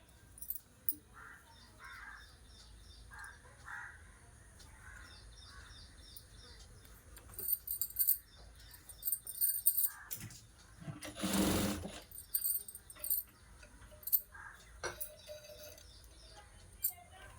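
Domestic sewing machine stitching the sleeve joint of a blouse in short, repeated bursts of whirring, fairly faint and close, with pauses between runs, a louder rustle near the middle and crow calls in the background.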